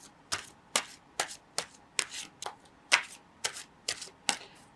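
Gilded Reverie Lenormand cards being shuffled by hand: about a dozen crisp, evenly spaced riffling flicks, close and fairly quiet, with no voices.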